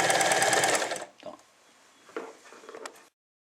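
An Elna 318 semi-industrial sewing machine stitches in a loud, steady run for about a second, then falls to quieter intermittent motor and needle sounds with short bursts before stopping.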